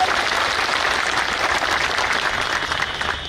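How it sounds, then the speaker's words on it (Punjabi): An audience at a school transport union meeting in Patiala gives dense, loud applause to welcome a minister, a sustained wash of many hands clapping that eases slightly toward the end. "ਅਸੀਂ ਸਭ ਤੋਂ ਪਹਿਲਾਂ ਉਹਨਾਂ ਦਾ ਜ਼ੋਰਦਾਰ ਤਾੜੀਆਂ ਨਾਲ ਸਵਾਗਤ ਕਰਦੇ ਹਾਂ"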